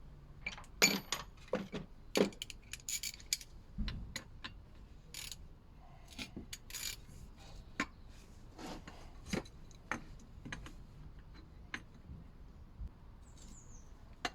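Working loose a top mount bolt on a Peugeot 308 1.6 HDi front suspension with a Torx 35 bit: sparse metallic clicks, ratchet ticks and scrapes, quiet and intermittent in an otherwise calm workspace.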